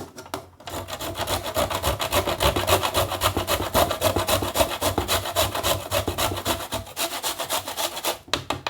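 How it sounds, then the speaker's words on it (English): Whole nutmeg is grated by hand for pepper soup with fresh fish, giving a loud, fast, steady rasping scrape of repeated strokes close up, ending in a brief pause. "is to grate some of our nutmeg"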